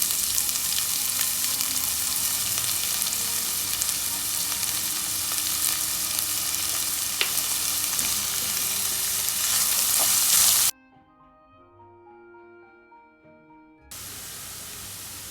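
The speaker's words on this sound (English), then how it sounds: "I am going to add in the onion and some salt and saute it for 1 to 2 minutes" Onion and salt sautéing in a pan for mushroom masala, a loud, dense, hissing sizzle that holds steady for about ten seconds, then cuts out briefly before the frying noise resumes more quietly.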